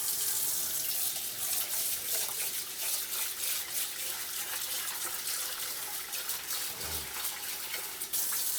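Tap water runs steadily into a sink as neck bones are rinsed, a continuous hiss and splash with a brief low clunk near the end and no voices.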